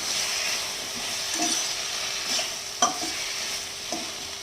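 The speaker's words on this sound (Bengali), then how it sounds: "এবার এটাকে ভালো করে কষিয়ে নিতে হবে" Spiced fish masala of pui and rui fish sizzles steadily in a pan while a spoon stirs it, with a few scraping clinks of utensil against the pan and a continuous close frying hiss throughout.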